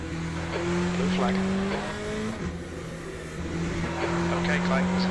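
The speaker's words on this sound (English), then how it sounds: "Okay, Clay, there's a faster class car approaching." Race cars in the Le Mans Ultimate racing game approach and roar past, engines droning with shifting pitch and brief tire squeal, loud and continuous, while a voice talks over the engine noise.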